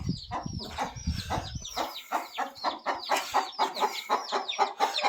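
Many chickens and roughly 20-day-old chicks cluck and peep in a busy, overlapping chorus, with rapid repeated calls throughout and some low rustling early on.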